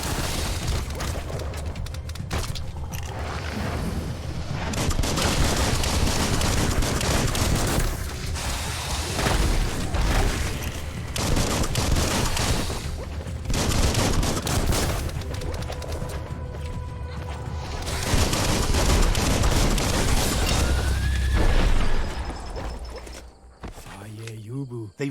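Dense, sustained gunfire and booming blasts from the action game Biomutant fill the scene almost without pause, loud and close, briefly easing near the end.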